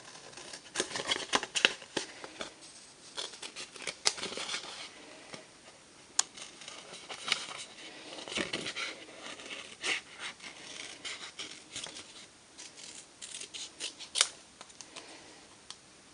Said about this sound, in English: And I'm going to cut out my suitcase.